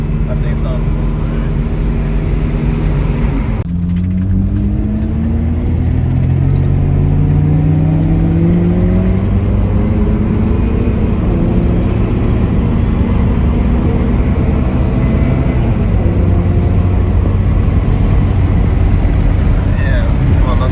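Honda Civic Si fitted with a Skunk2 exhaust, its engine rumbling steadily and rising and falling in pitch through several revs, loud and close throughout the clip.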